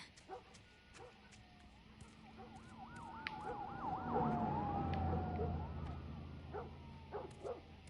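A wailing police siren in the video game The Last of Us rises and falls in the distance, swelling louder midway, with a dog barking intermittently nearby.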